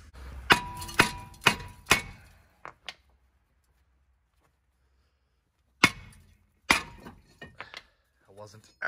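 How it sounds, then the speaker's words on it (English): A hammer strikes a rusty brake rotor on a 2002-2006 Toyota Camry four times in a quick, ringing series, then a lighter tap, a pause, and a couple more clanging hits. "we're gonna have to hit it with a hammer"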